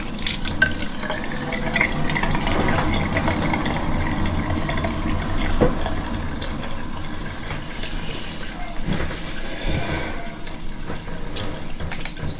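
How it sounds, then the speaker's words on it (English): Water splashed onto a face at a bathroom sink, a continuous loud close rush of running tap water with sloshing splashes and drips throughout. "she rinses her face, which I've just done splashing some water on"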